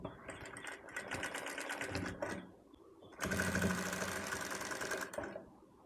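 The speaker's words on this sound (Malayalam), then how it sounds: "ഇതുപോലെ ഞാൻ ഫുള്ളായിട്ടൊന്ന് റൗണ്ട് ചെയ്ത് സ്റ്റിച്ച് എടുക്കുന്നുണ്ട് കേട്ടോ" A sewing machine stitches fabric for a frock cut from an old shirt, running in two close, steady bursts of rapid mechanical whirring separated by a short pause, ending with a brief stop.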